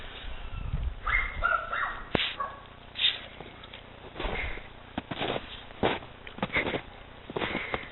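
A dog makes short barks and yips outdoors in falling snow, scattered bursts at irregular intervals, moderately close, with thumps and movement noise between them.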